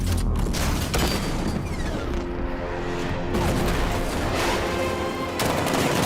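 Heavy rapid gunfire from a 60mm cannon in Batman: Arkham Knight, with booming blasts and mechanical clatter filling the clip continuously, loud and close.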